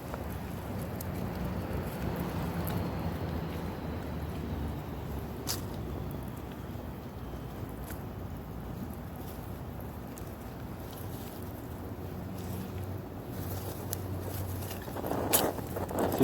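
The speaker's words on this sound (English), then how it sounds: "it's just the wind right now. It's kind of windy." Steady wind rushes and buffets against the microphone outdoors beside a campfire being started, with a low continuous roar and a few faint clicks and thumps nearby.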